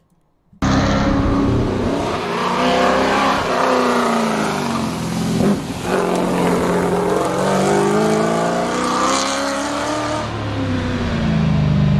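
A Ford Falcon Cobra race car drives flat out on the Targa Tasmania tarmac rally, a loud continuous engine roar rising and dropping through gear changes for several seconds, no speech.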